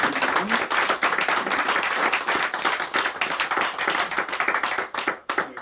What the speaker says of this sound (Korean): 우리 하나님께 감사하는 마음으로 감사의 박수를 드리겠습니다